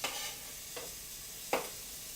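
Mushrooms and other food sizzling in a pan, a steady hiss broken by three brief louder stirring scrapes, with no voices.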